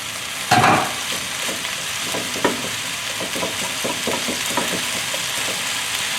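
String beans drop into a hot pan with sesame oil, ginger and garlic, a sharp sizzle burst followed by steady frying hiss and a few light stirring clacks.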